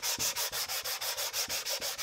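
A foam sanding block rubbed over the gasket surface of a CR250 motocross cylinder, a loud close rhythmic scraping in quick regular back-and-forth strokes, about six per second, with no talk.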